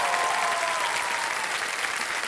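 Steady, dense applause from a large audience, continuous clapping filling the whole stretch with no voices standing out.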